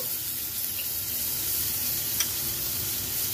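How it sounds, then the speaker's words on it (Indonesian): A steady, soft frying sizzle as a spoonful of margarine melts in a heated wok, constant hiss with faint clinks near the middle, no voices. "Lalu di sini saya masukkan satu sendok makan margarin."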